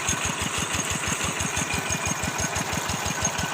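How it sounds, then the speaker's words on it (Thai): A tractor engine driving a water pump chugs in a fast, even rhythm, running steadily at moderate distance, with no voices. "รถไถใส่กระท่อสูบครับเนี่ย"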